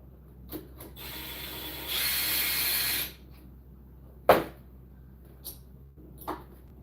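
A ratchet works a locking nut off a clutch, giving several short clicking bursts. A sustained louder ratcheting run follows, then sharp isolated clicks and a knock, all close and with no talk.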